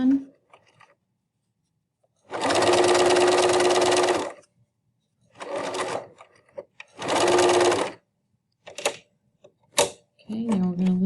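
A sewing machine runs in two sustained bursts of stitching along a face mask seam, close and steady, with short clicks and quieter pauses between them and a voice speaking briefly near the end.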